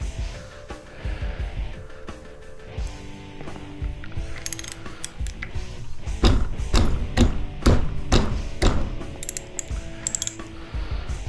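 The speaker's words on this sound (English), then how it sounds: "Minnie Mouse's ratchet set here is" A small ratchet wrench turns a bolt while scrapping metal, giving bursts of quick clicking ratchet strokes with clanks and mechanical rattles, close and irregular, growing busier toward the end.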